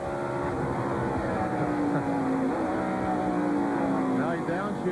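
Engine of a 1996 NASCAR stock car at the Watkins Glen road course, a steady loud roar with rising pitch sweeps as it accelerates and shifts, heard alongside commentary voices and crowd noise throughout.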